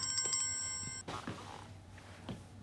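A telephone rings with a bright, rapid trill for about a second, then stops, leaving quiet rustling and a few faint knocks.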